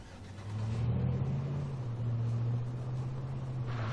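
A car engine in a video game rumbles and revs up, a steady low drone rising and holding, fairly close with no talk over it.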